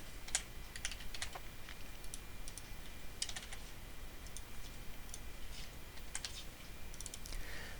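Steady typing on a computer keyboard, quick clusters of light clicks in uneven bursts across the whole stretch, close and fairly quiet over a faint background hum, with no talking.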